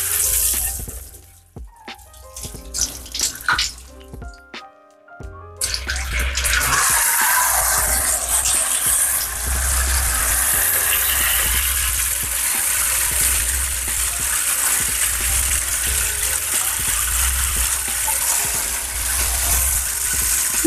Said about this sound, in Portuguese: Eu já vou ligar a água.